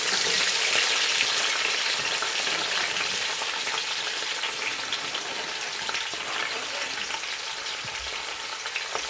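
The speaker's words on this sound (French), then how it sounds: "Ma marmite est au feu avec un peu d'huile. Je vais mettre mes condiments que j'avais coupés." Chopped condiments frying in hot oil in a pot on the fire, giving a steady, close, dense sizzle that holds an even level throughout with no voices.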